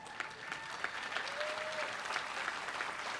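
Applause fills a commencement ceremony, a steady patter of many hands clapping from a distant crowd, fairly faint and continuous throughout.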